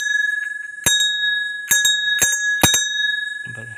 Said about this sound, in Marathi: घंटी पण या साईडला वाजवताना